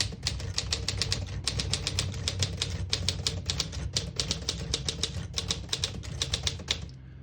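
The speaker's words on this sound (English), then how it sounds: "Very nice typing machine." A 1957 Smith-Corona Silent-Super portable typewriter clacks through a sentence in quick, steady keystrokes, close and crisp, with short pauses between bursts of typing and a faint mechanical hum beneath.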